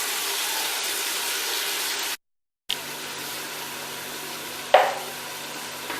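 Tomatoes and green chilies frying in a pan for liver curry, a steady close sizzle with a brief silent gap and a short sharp spatter near the end.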